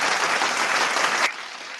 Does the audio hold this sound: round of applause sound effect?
yes